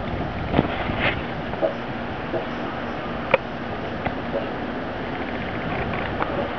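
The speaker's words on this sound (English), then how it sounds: "Wind's picking up okay." Strong winter storm wind blowing sideways across a porch in Lewisburg, West Virginia, a steady broad rush with buffeting gusts on the microphone and a few faint knocks, no talking.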